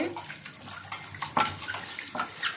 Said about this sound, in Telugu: ఉప్పు వేసి బాగా కడగాలి